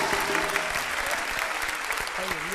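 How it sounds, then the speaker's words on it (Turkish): TV studio audience applause on a Turkish talk show, loud and continuous clapping from a large crowd with a faint voice or tone showing through underneath. "Ajda Pekkan'a da buradan büyük bir alkış gönderelim."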